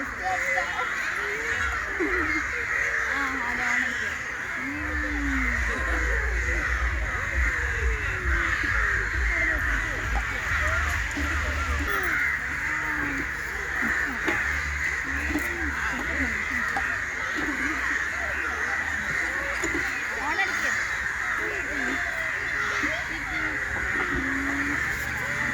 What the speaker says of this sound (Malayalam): ഇവിടെ അടുത്തുള്ള മരത്തിലൊക്കെ ധാരാളം കാക്കകൾ വരാറുണ്ട്